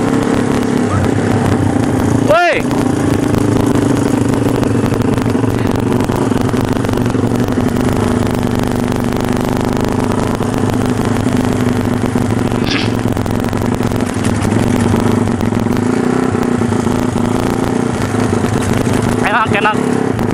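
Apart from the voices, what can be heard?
Yamaha Scorpio bobber motorcycle engine during night test ride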